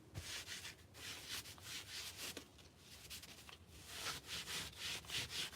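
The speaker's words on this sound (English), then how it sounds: "And just work on smoothing that out." Hands smooth fabric laid into a canvas frame, producing soft, faint, repeated rubbing and brushing strokes close by in an uneven rhythm.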